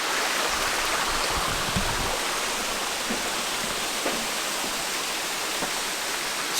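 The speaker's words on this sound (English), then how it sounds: "Wow, look at all the water coming down the moss up there." Water trickling and running down mossy rocks in an old-growth forest in Oregon's Siuslaw National Forest, a steady broadband rush like a small stream or waterfall, continuous and fairly close with no talking.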